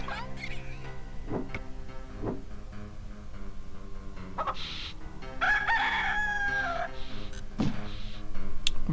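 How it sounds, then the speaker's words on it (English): Rooster in the 1996 adventure game Discworld II crows loudly and close, a long rising and falling call near the middle, among scattered clicks and game sound effects, with no speech. "Okay, we're going to use the rooster"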